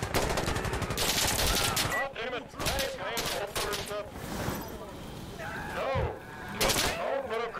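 Dense bursts of gunfire in Insurgency: Sandstorm, including shotgun fire, crackle in rapid clusters with players talking over the firefight throughout.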